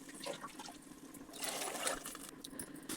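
Water splashing and trickling steadily into a cooking pot as it is filled for boiling rice in a home kitchen, a continuous moderate pour with a fuller gush midway.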